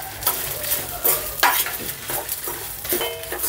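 Dried and green chillies frying in a pan, steady crackling sizzle with repeated scraping stirs of a spatula at an irregular rhythm, close and moderately loud.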